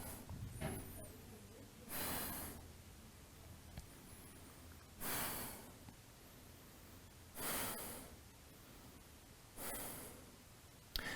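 Slow, deep breathing held in a yoga pose, with four or five loud airy hissing exhales spaced a couple of seconds apart, close and unaccompanied by talk.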